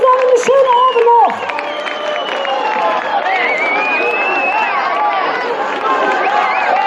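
Crowd applause and cheering at Severinskirchplatz in Cologne during a long-table street event: a dense, sustained wash of clapping with whoops and voices, loud and close, with a voice speaking over it at first.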